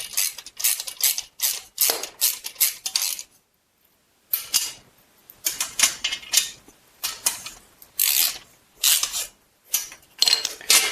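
Bolts on an overhead garage storage rack post are tightened with a 13 mm wrench: quick bursts of metallic ratcheting clicks, close and crisp, separated by short pauses.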